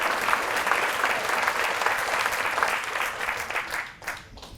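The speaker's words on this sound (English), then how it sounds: "So a round of applause for our track and field nominees and the fastest people in the room." Sustained applause from an audience at a female athletes awards dinner, honoring track and field nominees; steady, dense clapping fills the room and tapers off near the end.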